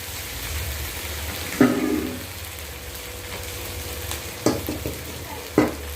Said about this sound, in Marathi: आता आपण याच्यामध्ये जे वांगी पूर्णपणे टाकून घेणार आहे आणि मिक्स करायचं आहे